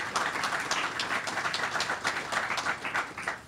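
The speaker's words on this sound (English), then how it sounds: "I think we give them a round of applause." A crowd at a tennis ceremony honoring classmates gives a round of applause, with moderately loud, steady, dense clapping filling the whole stretch.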